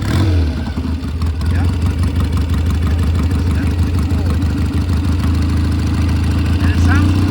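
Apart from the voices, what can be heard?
1971 Triumph Bonneville cafe racer engine idling after cold start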